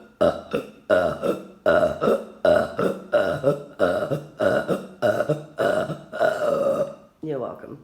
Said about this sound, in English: Shall I burp first?